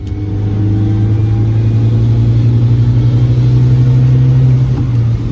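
A pocket rocket car's engine drones loudly under throttle with a strong steady low hum and a rising, slightly throbbing tone, close and sustained with no talk.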